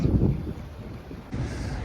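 Wind gusts outdoors in a snowy Russian winter at minus twelve degrees, a low roaring rumble buffeting the microphone in two surges with no voices.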